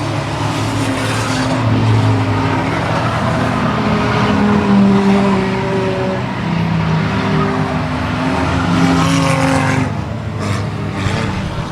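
Roughly two dozen race cars lap a track during an enduro race, their engines merging into a loud, continuous roar that swells and fades as packs pass, with no talking.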